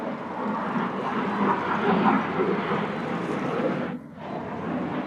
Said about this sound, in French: Il y a un avion de chasse.